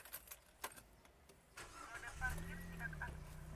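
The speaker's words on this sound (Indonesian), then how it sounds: "kita coba hidupin mesinnya ya teman-teman ya" A 2017 Nissan Grand Livina HWS MPV engine cranks and catches, then settles into a smooth low idle, heard from inside the car after some faint handling noises and brief talk.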